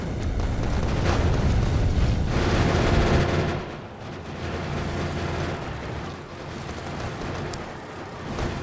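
Gau turrets in a factory-building video game fire continuously at enemies, a dense, heavy stream of rumbling bursts that is loudest for the first three seconds, then continues somewhat quieter.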